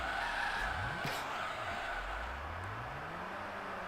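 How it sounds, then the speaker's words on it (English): Handbrake skid of a car in the racing video game Gran Turismo 3: a long, steady tire squeal over engine drone with a rising engine note, loud and continuous throughout. "let's pull the handbrake"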